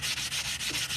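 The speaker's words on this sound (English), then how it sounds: "I'm just sanding this cut edge and making it as smooth as I can" The cut edge of a coin ring is sanded by hand with quick, rhythmic rubbing strokes, about six in a second, close and fairly quiet with no voices.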